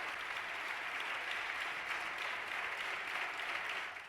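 Applause fills the Spanish Congress chamber for the health minister, a long, steady clapping from the benches that fades slightly at the end.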